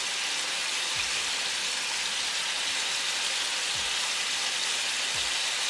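Pork loin back ribs seasoned with salt and black pepper pan frying over medium gas, a steady close hiss and crackle of sizzling fat running continuously with no talk.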